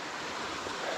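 Small waterfalls tumble over rocks along Kelly's Run, a rocky stream on a hiking trail, giving a steady, close wash of rushing water with no break through the moment and some wind across the microphone.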